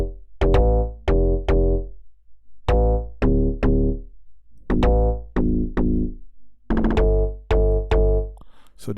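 Three layered log drums and a sub bass play together in an Afrobeat production, giving heavy, punchy pitched hits in a syncopated pattern with deep booming low end, loud and alone.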